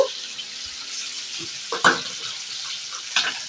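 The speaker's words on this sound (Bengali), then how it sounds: "আলুটাকে নেড়ে চেড়ে একটু ভালো করে ভেজে নিতে হবে" Potatoes fry in a pan with a soft, continuous sizzle, broken by a few sharp scraping stirs of a spoon against the pan, close by and with no voices.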